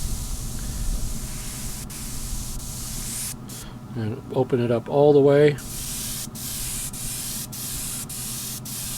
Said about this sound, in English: Does a nice job of spraying.